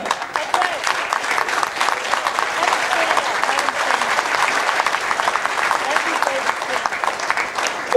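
An audience claps loudly and steadily for the representatives at a rally on total non-compliance, with dense applause that holds for the whole stretch and swells slightly at the end.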